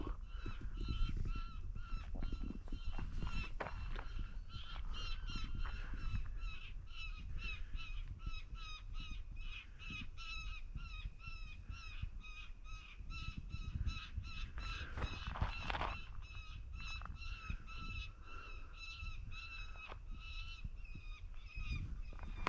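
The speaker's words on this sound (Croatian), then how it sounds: "Dvije ptice se gonjaju." Two birds squabbling and chasing each other on a mountain ascent of Velika Vidova in the Prenj range, giving repeated harsh crow-like caws over steady outdoor background noise.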